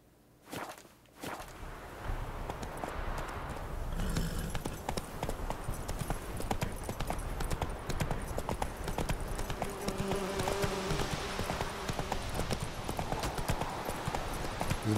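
Horse hooves clip-clop steadily at a trot in the video game Witcher 3, a close and even rhythm that runs on without a break after a brief quiet start.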